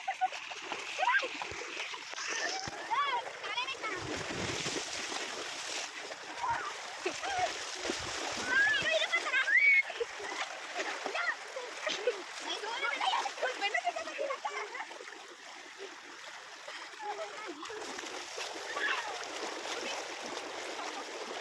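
Water splashes and churns as people play in it outdoors, a continuous hissing wash with irregular splashy surges under voices talking.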